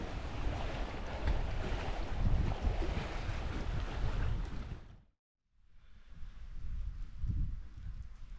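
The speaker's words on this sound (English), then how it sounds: "That wind is blowing in." Wind blowing on a lake in the Adirondacks, buffeting the microphone as a loud, rough roar with gusting surges, cutting out abruptly for a moment before returning somewhat softer.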